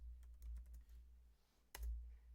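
Short bursts of keystrokes tap on a computer keyboard, with a pause and then a firmer key press, close and quiet during an Excel spreadsheet session.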